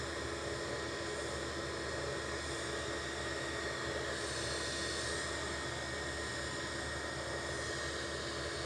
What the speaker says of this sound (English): This is 9K AKN, a A320 Neo with flight 113.